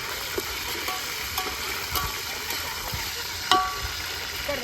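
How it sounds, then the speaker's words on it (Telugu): Curry leaves tempering in hot oil over an outdoor wood fire give a steady, even sizzling hiss dotted with small crackles and pops, one sharper pop near the end. "ఇక్కడైతే పోపు పెడుతున్నా. కట్టెల మీద బాగా టేస్టీగా ఉంటుందని."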